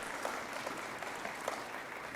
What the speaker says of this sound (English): we have with us today Senator Sylvia Santana, who you can stand up for a round of applause